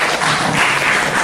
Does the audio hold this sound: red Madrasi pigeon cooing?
no